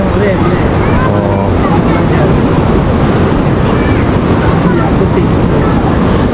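Ocean waves at Pantai Shahbandar in Tuaran, a steady loud roar of surf mixed with wind buffeting the microphone, continuous without a break.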